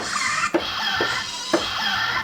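A sustained, buzzy mentasm synth chord that repeats as short stabs about once a second, each restrike breaking the tone briefly, heard alone.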